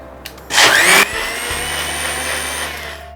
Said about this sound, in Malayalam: നമ്മളിത് നന്നായിട്ട് ബ്ലെൻഡ് ചെയ്തെടുത്തു